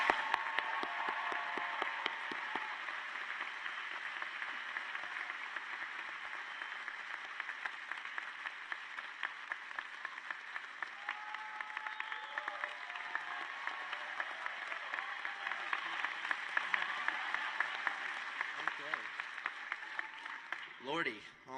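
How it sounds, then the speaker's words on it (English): A graduation audience applauds a 2015 valedictorian, with steady, dense clapping that holds for about twenty seconds, rising slightly toward the end before it cuts off. "all of us can applaud and welcome this year's 2015"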